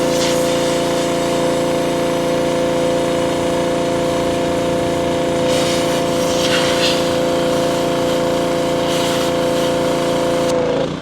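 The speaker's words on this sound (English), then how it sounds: "So you just stick the washer in there and clean it off like that." A pressure washer sprays water into the exhaust pipe of a KTM 300 dirt bike. Its motor holds a loud, steady droning hum for the whole stretch, with a hiss of spray rising briefly and no voices.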